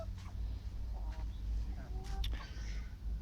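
Older laying hens, one about three years old, in a small home flock give a few soft, scattered clucks and brief calls, faint and somewhat distant over a low background rumble.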